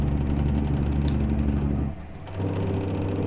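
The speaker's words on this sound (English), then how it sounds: "even though we only have a 350 horsepower engine, we're up to 56 now" A 350-horsepower truck engine in a trucking simulator game runs with a loud, steady diesel drone, then briefly dips and drops away before picking back up, as though during a gear shift. No one talks over it.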